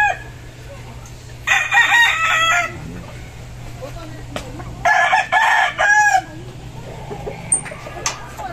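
Gamefowl roosters in a breeding pen crow in two loud bursts, each a couple of seconds long, with softer clucking and chicken calls in between over a low steady hum.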